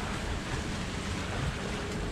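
Wind and choppy waves at sea wash steadily past a sailboat heading upwind, a broad, even rushing noise with wind buffeting the microphone and no distinct events or speech.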